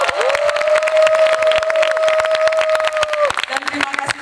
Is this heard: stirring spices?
no